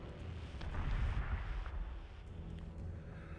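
Incoming missiles exploding in the space strategy game BSG: Deadlock, a dull low rumbling blast swelling and fading over a few seconds, fairly faint and muffled, with no talk.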